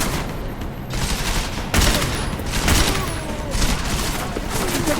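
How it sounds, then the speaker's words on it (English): Heavy sustained gunfire in Deus Ex: Mankind Divided, a dense fusillade of overlapping shots with louder bursts at intervals, mixed with faint voices in a chaotic firefight. "Keep shooting!"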